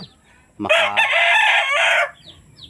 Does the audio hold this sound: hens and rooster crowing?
yes